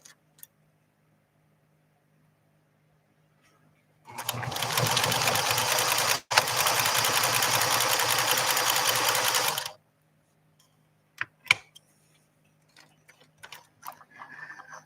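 A PFAFF 360 sewing machine stitches in one steady run of about six seconds, set to a stitch length that is too short, with a tiny break partway through, then quiet handling clicks and rustles follow.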